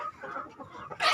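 A rooster clucks briefly and softly in a box pen built for cockerels, a short burst of low fowl calls ending in a sharper rustle.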